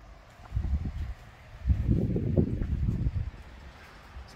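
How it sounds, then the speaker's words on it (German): Gusts of wind buffet an outdoor balcony beside a beach in Djerba, Tunisia, coming as low, uneven rumbling surges against the microphone, one short and one longer, over a quiet background. "Ist ein bisschen windig heute."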